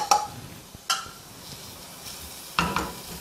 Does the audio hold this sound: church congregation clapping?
no